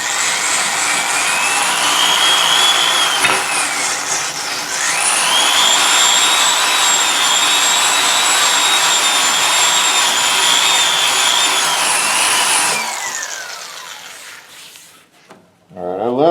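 A Saburr disc shaping an English walnut HW80 gunstock under light pressure, a loud steady high-pitched rotary whine with shifting pitch for about twelve seconds, then spinning down and cutting off.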